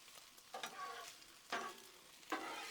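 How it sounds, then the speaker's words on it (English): Sausage and tortellini stirred through a garlic butter sauce in a hot pan: a quiet ongoing sizzle broken by three distinct spoon-scraping strokes at regular intervals. "Go ahead and get our sausage and tortellini mixed together."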